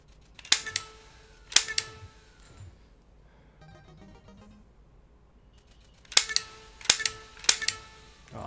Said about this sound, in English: Some skeet shooting.